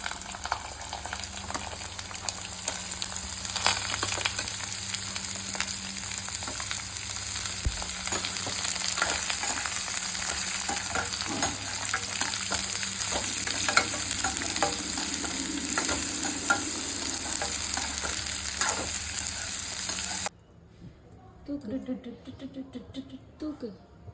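Beetroot and curry leaves fry and get stirred in a pan, with a steady sizzle and repeated scraping strokes. The frying runs for about twenty seconds before cutting to a quieter stretch with faint clatter.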